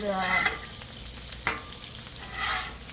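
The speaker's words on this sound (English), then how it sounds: "So let's go ahead and flip these pork chops." Parmesan-crusted pork chops sizzle steadily on a Blackstone griddle, a close, continuous frying hiss broken by a couple of sharp scraping clicks of a spatula as the chops are flipped.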